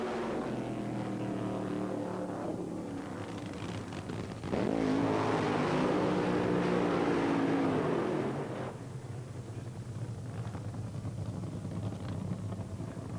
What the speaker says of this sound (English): how about that for synchronized burnouts side by side with the number 2 and the number 9 quickest in the Cannonball